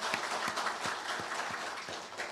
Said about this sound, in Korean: 우리 찬양대 한번 우리 박수 한번 해줘요